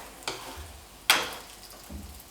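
Egg batter is poured into a puffed flatbread frying in a pan for a Chinese egg-filled pancake. Two sharp sizzling bursts rise over a faint, quiet frying hiss, followed by a softer third flare.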